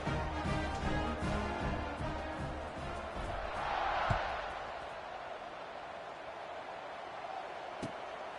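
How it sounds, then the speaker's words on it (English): Stadium crowd in an NCAA college football video game buzzing after a score, a steady roar of many voices that swells briefly midway and then settles into a constant background hum. "this crowd is buzzing after that last score"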